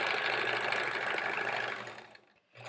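A sewing machine stitches quilt pieces in a steady, close, rapid mechanical whir that runs for about two seconds, fades to a brief stop, then starts up again, with no talking.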